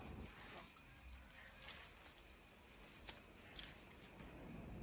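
Steady, faint chirping of crickets fills the night air near a cemetery, a continuous high trill with no talking.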